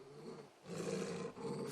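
A dog growls in the Final Fantasy XVI video game: a low, rumbling, roar-like growl that starts softer, swells into a loud sustained stretch, and briefly dips before continuing, with no talking.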